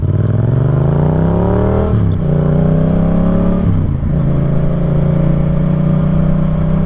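An old vehicle engine running after trouble once blamed on the ignition switch, loud and close, revving up in rising pitch through repeated gear-like steps, dropping and climbing again, then holding a steady drone.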